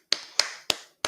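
Four sharp, isolated claps spaced roughly a third of a second apart, each a crisp snap with a short fading tail, fairly close with no talk over them.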